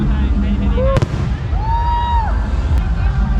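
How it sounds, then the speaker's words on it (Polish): Fireworks burst on New Year's Eve in Laos, with scattered pops and whistling rockets rising at a distance under steady crowd noise and nearby talk. "no i mogę oglądać fajerwerki"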